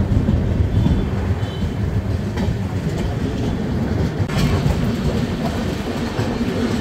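Mithila Express running on the rails, a loud continuous rumble of the moving train with rhythmic wheel clatter throughout, no talking.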